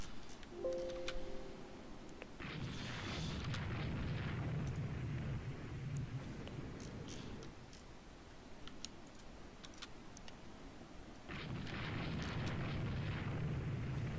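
Naval battle explosions in the game Rule the Waves 2 as a torpedo strikes an enemy carrier: two long, muffled rumbling blasts, fairly faint, with light ticking between them.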